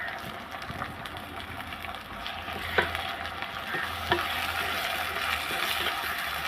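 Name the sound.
shallots, curry leaves and green chilli sautéing in oil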